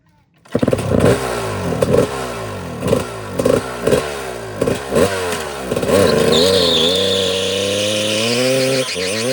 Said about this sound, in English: So I hope y'all like burnouts.